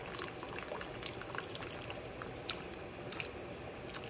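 Broth pours steadily into a pot of shrimp scampi being made with a pound of pasta, a continuous close liquid splash and rush with faint bubbling and no voices.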